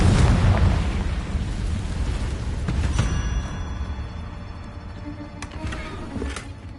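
A Confringo blast spell in the Hogwarts Legacy game, a loud, rumbling explosive burst opening the clip. A booming roar decays over several seconds, with a sharper crack near the middle and faint ringing tones trailing after.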